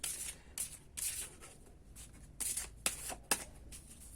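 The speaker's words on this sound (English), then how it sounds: "let's go ahead and shuffle our dream oracles" Oracle cards are shuffled by hand in several quick riffling bursts, crisp and close, with short pauses between them.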